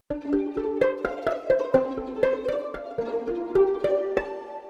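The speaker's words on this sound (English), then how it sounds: "Yeah, banjo pizzicato." A virtual banjo layered with pizzicato strings, sounding as a light, bouncy pattern of short plucked notes over a gentle sustained chord, soft and close with no talking.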